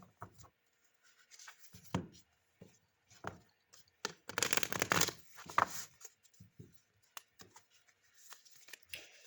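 Oracle cards are shuffled by hand in a quiet room, giving soft scattered riffling and tapping, with a denser flurry of shuffling near the middle and sparse small handling sounds around it.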